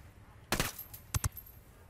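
Suppressed LVOA-C rifle shots in Ghost Recon Wildlands, a short burst of muffled shots followed by two sharp, separate shots, close and punchy against a quiet background.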